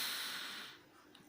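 A single deep, slow breath drawn out close to the microphone, a soft airy rush that fades away, followed by near silence.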